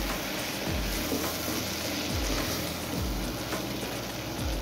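Red chilli powder, turmeric and sambar masala frying in a pan for a dal, a constant close crackling sizzle with a few low scraping stirs, no voices.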